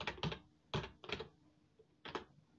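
Code typed on a computer keyboard: several short clusters of crisp, close key clicks, separated by brief quiet pauses, with no talking.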